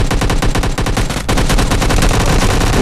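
Loud, rapid bursts of automatic gunfire in a squad-based shooter video game, firing almost continuously with one brief break partway through and no talking.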